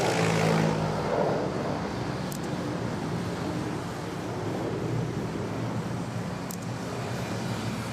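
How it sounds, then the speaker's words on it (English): A Hercules aircraft makes a low takeoff at Manila Airport, its broad engine roar rumbling steadily from a distance, louder at first and then settling into a sustained drone mixed with wind noise. "Here's the Hercules. Oh, nice. There you go. Look at that low takeoff."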